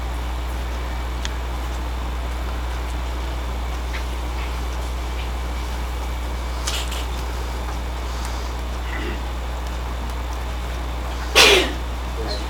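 A single sharp sneeze bursts out near the end of a quiet classroom room tone, brief and moderately loud against a steady low hum.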